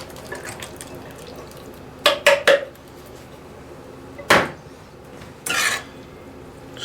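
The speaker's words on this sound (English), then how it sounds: "Now we're going to add in 1 can of black beans." Canned black beans going into a casserole mixture: a few close clattering clinks and a soft wet plop over low background noise, with short quiet spells between.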